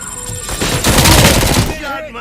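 Rapid gunfire in the Robocop: Rogue City video game, a dense, loud burst of shots swelling through the middle and fading, with a voice shouting over it.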